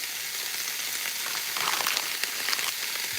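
Shrimp for teriyaki fry in a hot pan, giving a dense, even hiss with a slight swell midway, close and steady with no talking.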